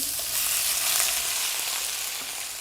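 Shrimp sizzle vigorously in a hot pan for basil shrimp fried rice. The hiss is loud, dense and continuous, with faint stirring beneath it, and nobody speaks.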